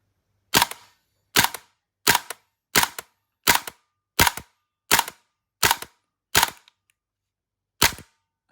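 A Krytac Kriss Vector gas blowback airsoft rifle fires ten sharp, loud shots at a steady pace, with a short gap before the last one, each crack followed by a quick mechanical clack.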